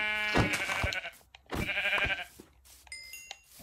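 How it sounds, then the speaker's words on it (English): Sheep bleating in the Minecraft video game, two loud harmonic bleats in quick succession followed by a fainter chiming tone, with no talk over them. "Got another sheep."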